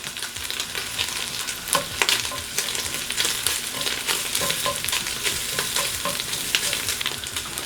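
Garlic fries in a little avocado oil with a dense, crackling sizzle close by, broken by frequent light scrapes and taps as it is stirred.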